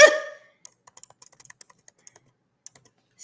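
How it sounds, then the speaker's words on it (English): Sparse, irregular keyboard taps clicking one by one indoors, quiet and close, after a brief louder tonal sound at the start; no voices. "how am I typing this?"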